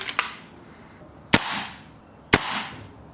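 A BRK Ghost air gun fired at maximum power: three sharp, loud cracks spaced about a second apart, each trailing off in a brief hissing decay, with nothing else around them.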